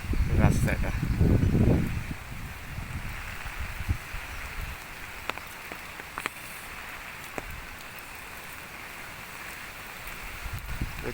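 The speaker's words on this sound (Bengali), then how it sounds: "প্রচণ্ড বৃষ্টি।" Heavy storm rain pours steadily over a village field and pond, a constant broadband hiss with scattered drops; a loud, close voice or gusty rumble fills the first two seconds before the rain continues alone.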